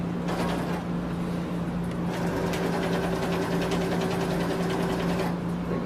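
A sewing machine stitching fabric runs loud and close, giving a steady motor hum with a fast, even rattle of the needle that holds without a break from start to finish.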